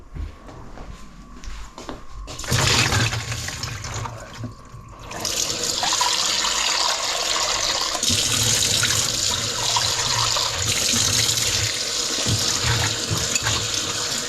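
Soaked rice being washed in a bowl of water, with sustained close sloshing and splashing under running water that stops briefly and then resumes for most of the stretch.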